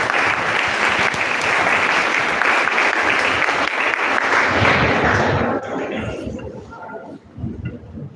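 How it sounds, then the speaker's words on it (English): An audience at a school event in Ahmedabad applauds warmly, a dense, sustained roar of clapping that holds loud for several seconds, then fades as a voice begins speaking over the tail. "Please give her a big round of applause."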